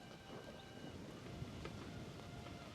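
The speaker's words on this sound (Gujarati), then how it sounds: "એ પવન કેટલો છે એ જોવો" Wind blowing outdoors, a faint, steady broadband rush with a low rumble that stays even throughout, with no voices.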